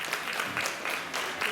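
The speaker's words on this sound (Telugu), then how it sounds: "మనం గట్టిగా చప్పట్లు కొట్టి మనమే కొట్టుకున్నాం." An audience at a Rama Navami celebration at Sri Kantameshwara Swamy temple in Kushaiguda claps in a brief burst of dense, steady applause, moderately close.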